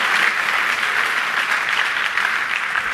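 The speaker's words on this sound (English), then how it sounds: "Please give a round of applause for Jim." Audience at an arts and entertainment industry forum applauding for Jim Gabor, a film teacher: a full, steady round of clapping throughout, loud and close, with no talk over it.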